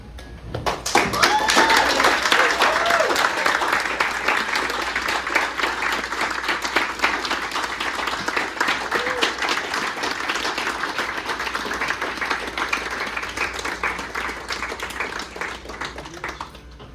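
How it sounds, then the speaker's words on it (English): A room of mourners at a celebration of life stands and claps, a sustained, fairly even round of applause with a few cheers and voices rising briefly at the start, fading slightly toward the end. "give Butch a round of applause that he deserves"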